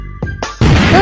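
A Diwali firecracker goes off in a few sharp, loud, close pops, then a dense, crackling burst that fills the rest of the moment.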